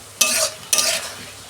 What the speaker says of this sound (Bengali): অল্প জল দিচ্ছি। ভালো করে 2 মিনিট আমি কষে নেব।